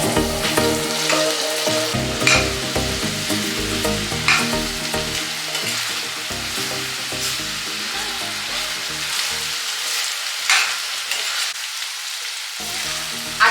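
Onions and finely chopped tomatoes fry in a pan, a steady, close hiss of sizzling oil, with occasional stirring scrapes and clinks throughout.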